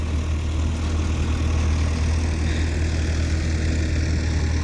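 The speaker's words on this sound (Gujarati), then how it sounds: "ट्रेक्टर भरीने आवे" A loaded tractor engine arriving at a farm field, a steady low diesel rumble at close range that holds constant and fairly loud throughout, with no voices.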